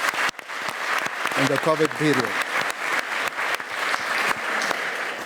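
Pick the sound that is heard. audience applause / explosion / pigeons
audience applause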